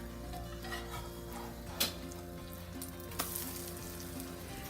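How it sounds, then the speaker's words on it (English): An eggnog pancake flipped into a hot pan, a steady loud sizzle with a couple of sharp clicks from the turn, close up with no talk. "now it's time to flip the pancake."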